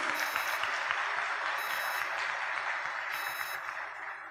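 Continuous applause from a seated audience at a formal civic session, fairly distant and even, with faint repeating electronic tones above it.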